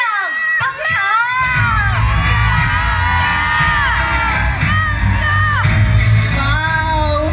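A large crowd at a public fan event greets a singer's entrance with excited screams, shrill whoops and cheering, loud and sustained throughout with layered high-pitched voices.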